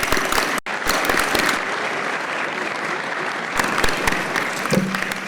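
Audience at a university engineering senior design day ceremony applauds family members, a loud, sustained burst of crowd clapping with a brief break near the start and a swell toward the end.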